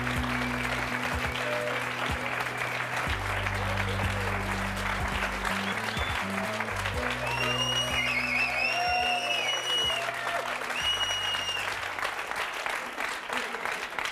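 A TV studio audience applauds a couple warmly, dense clapping over a looping musical backdrop with brief tonal flourishes, sustained for the whole stretch before tapering slightly.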